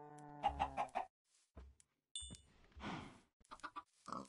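Chickens in the video game Minecraft give several short clucks and squawks in brief separate bursts with quiet gaps between them, fairly soft and with no talk.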